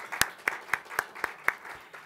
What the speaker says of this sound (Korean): 우리 다시 한번 하나님께 영광의 박수로 올려드리도록 하겠습니다